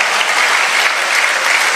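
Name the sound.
audience applause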